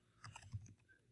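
Keys on a computer keyboard tap in a brief quick cluster of soft clicks, close and quiet, with no talk over them.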